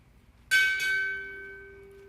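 A ceremonial ship's bell at a Navy chief petty officer pinning ceremony rings twice in quick succession, two bright metallic strikes that leave a long, slowly fading tone in a quiet hall.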